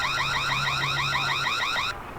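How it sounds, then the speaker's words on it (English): A Reolink security camera's default siren wails in a fast, repeating up-and-down sweep, loud and electronic, then cuts off abruptly near the end. "I can turn this on, and here's our siren sound."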